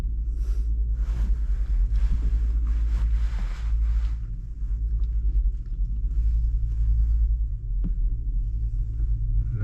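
A cable car descending from Chandragiri Hill near Kathmandu, Nepal, rumbles and throbs steadily as wind buffets the cabin, with a continuous low drone, faint wind noise and a brief clank near the end.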